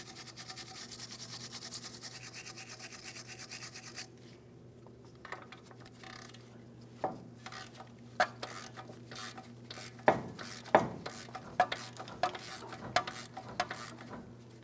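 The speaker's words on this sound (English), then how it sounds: "We'll use a wire brush on the threaded area here first" Wire brush scrubbing rusted threads on a ball joint stud of a 2007-2014 GMC Sierra 2500 HD, a steady bristly rasping that turns into sharp, separate scraping strokes and metallic clicks up close.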